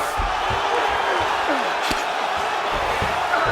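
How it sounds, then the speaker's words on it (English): A steady, loud arena crowd roars throughout a UFC 5 video game bout between Khabib Nurmagomedov and Sean O'Malley, forming a dense wash of cheering with a few sharp thuds and brief whoops cutting through. "crowd absolutely loving it"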